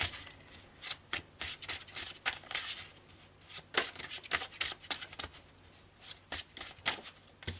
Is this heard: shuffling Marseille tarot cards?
yes